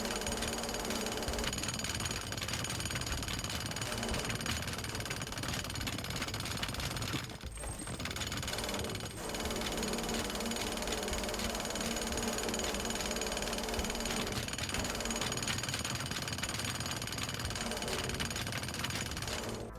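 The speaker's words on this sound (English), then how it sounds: "A little bit of cleanup to do, but nothing the jackhammer can't deal with." Jackhammer in the video game Teardown, a continuous loud rapid hammering that runs nearly twenty seconds with a brief break near the middle, dense and harsh, with no talk.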